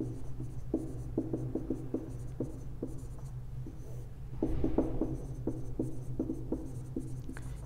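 Pen writing A-level maths working on paper, a series of close, scratchy strokes and taps in irregular bursts over a low steady hum.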